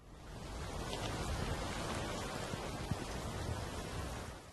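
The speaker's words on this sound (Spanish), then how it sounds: "Esa noche en particular llovía con fuerza." Heavy night rain falling hard, a dense, steady hiss of drops on surfaces with faint low rumbles beneath, continuous and fairly close, with no voices.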